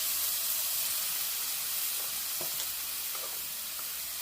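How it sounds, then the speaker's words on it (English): Broth poured into a hot pot of soup, a soft steady hissing sizzle with faint bubbling and stirring clinks, close and fairly quiet, no talking. "we're going to add the soup broth, put it back in there"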